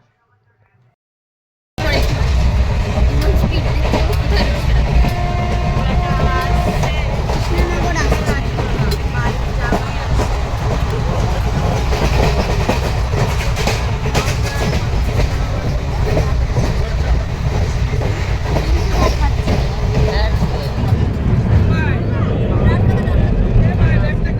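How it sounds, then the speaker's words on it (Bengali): The Hazarduari Express rushes along at speed, a steady loud rumble with rhythmic clickety-clack of wheels on rails, heard from inside a carriage with voices underneath. "মা দেখো ট্রেনটা কত জোরে চলছে"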